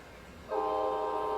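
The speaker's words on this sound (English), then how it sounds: "Here comes my occupation train." A cartoon train approaches and sounds a steady, harmonic horn that begins abruptly after a moment of quiet and holds for the rest of the short moment, fairly soft.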